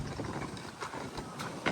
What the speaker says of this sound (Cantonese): 得我架車仔聲